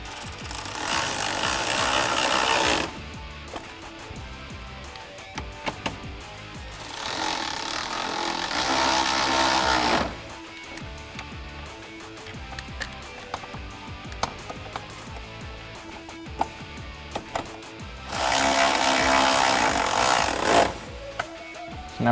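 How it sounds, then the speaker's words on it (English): A power tool drives three T30 screws to refasten a bracket on a Jeep Wrangler JL, with three loud, close bursts of buzzing whir separated by quieter stretches of small clicks and handling noise. "we can reinstall our 3 T30 screws that hold our bracket in place"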